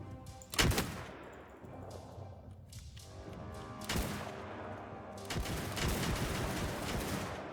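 Musket volleys in the samurai strategy game Shokuho: several loud, crackling bursts of massed gunfire, with one early volley, another near the middle and a longer sustained rattle toward the end, over a quieter battle background.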